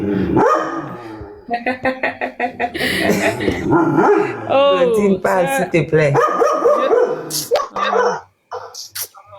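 Dog barks in short bursts through a French-language talk show segment, sharp yips and bow-wows repeatedly cutting across people speaking close by, ending abruptly.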